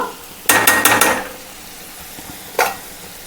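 A metal lid clatters onto a pot of mango curry in a home kitchen, several quick rattling knocks close by and then one more clank a couple of seconds later.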